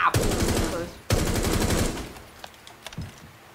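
Rapid automatic gunfire in Rainbow Six Siege as shots are fired through walls, two loud sustained bursts up close followed by scattered impacts and a few lighter sounds.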